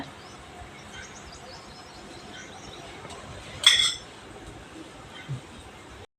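A single metal clink as a lid is set onto an appe pan of sprouted-lentil appe, with a quiet background hiss and a faint later clink.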